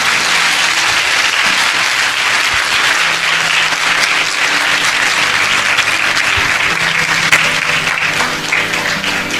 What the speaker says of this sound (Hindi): आइए प्रभु के लिए एक अच्छी ताली बजाएंगे अब सब मिलके।